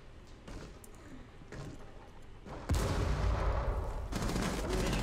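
Scattered shots crack early on, then a sustained, dense barrage of loud gunfire erupts and continues, synthetic combat from a Rainbow Six Siege ranked match.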